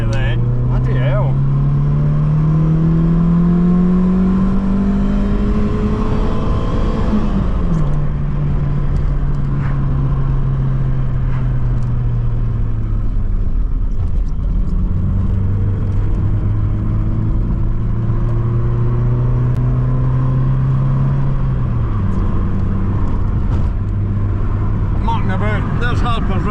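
A Vauxhall Cavalier Mk2 with a C20LET engine pulls hard to overtake, its loud engine droning and rising in pitch through the gears, with a gear change at intervals and a voice speaking over the interior rumble.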